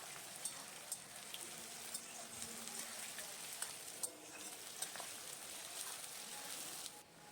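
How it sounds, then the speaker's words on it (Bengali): Chopped onions fry in a pan with a faint, steady crackling sizzle and occasional light taps of a utensil, quiet and close. "এবার পেঁয়াজটাকে ভাজতে হবে।"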